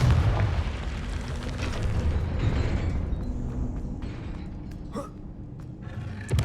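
A Confringo fire spell bursts in Hogwarts Legacy, a heavy booming explosion at the start that rumbles and fades over several seconds, with a sharp pop partway through.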